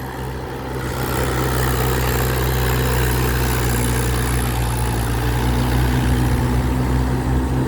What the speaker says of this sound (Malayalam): ട്രാക്ടർ അടുത്തോടെ വരുന്നു.